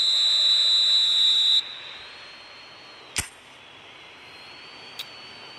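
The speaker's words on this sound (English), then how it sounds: "And the half-time whistle goes." A referee's half-time whistle in the eFootball video game sounds as one long, loud, shrill blast that cuts off abruptly, followed by quiet background and a couple of faint sharp clicks.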